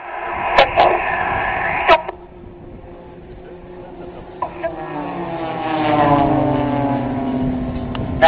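Blades aerobatic team aircraft in tight card formation at the 2011 Sanicole Airshow, a steady engine drone receding into the distance with a few sharp clicks early on, the pitch sliding down as the formation pulls away.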